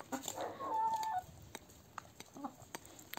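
Chickens cluck close by in a quick burst of short calls, then quieter scattered clucks follow amid faint rustling and clicks.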